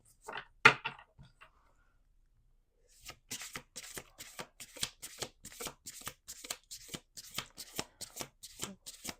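Tarot cards being shuffled by hand, a few scattered riffles and taps first, then after a short silence a long run of quick, crisp, rhythmic shuffling strokes, close and clear.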